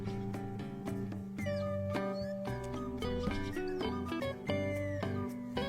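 A toy cat gives a few short meows over bright, cheerful melodic music that plays steadily throughout at moderate loudness.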